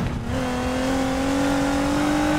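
A car engine in a police chase video game revs steadily upward, a loud sustained droning whine rising in pitch over a couple of seconds with no talk.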